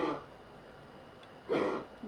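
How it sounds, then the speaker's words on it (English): Two short, soft coughs from a pet bird, one at the start and another a second and a half later, with quiet room noise between them. "That's Oliver coughing."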